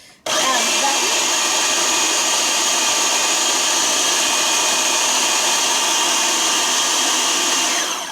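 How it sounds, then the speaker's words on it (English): A food processor whirs at high speed to chop pimento cheese, a loud steady motor drone that starts abruptly and runs for about eight seconds with no talking. "So now we're going to switch over to the pulse to chop."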